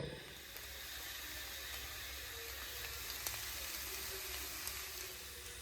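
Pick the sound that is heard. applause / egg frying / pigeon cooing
egg frying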